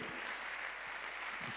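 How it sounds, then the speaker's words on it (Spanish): Steady applause from a church congregation, a dense wash of clapping that holds evenly throughout, slightly distant and not very loud. "Dale un aplauso a esta palabra, por favor."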